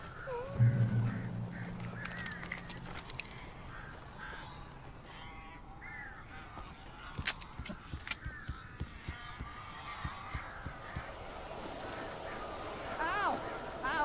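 Crows or similar birds caw and squawk in the Alan Wake video game, with short harsh calls scattered over a dense, noisy game soundscape, while a voice speaks near the start.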